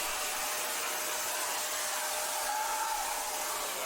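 A WM210V metal lathe cuts a small chamfer with its tool post angled, giving a steady, loud broadband whir and hiss of motor and cutting that holds unchanged throughout.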